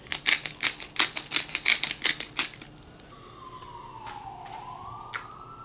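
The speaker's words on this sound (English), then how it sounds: "I love the ambient sirens of New York City." A rapid series of sharp clicks or taps gives way to a distant siren wailing through New York City streets, faint and rising then falling, behind quiet ambient room noise.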